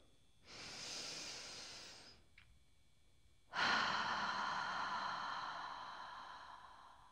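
Two long, steady breaths heard up close during a pelvic floor breathing exercise. A soft airy exhale is followed after a pause by a louder, breathier one that fades out slowly, with no talking.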